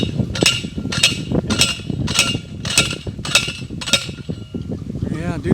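A rail hammer drives a metal ground rod into the earth while a bee yard fence is built: seven sharp, ringing metallic strikes at an even rhythm, each about 0.6 s apart, loud and close, with faint talk between blows.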